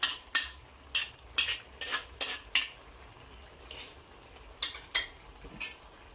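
Fish cooking in a pan with salted vegetables and tomatoes for a stew, faint sizzling under a series of light clinks and scrapes of a utensil against the pan.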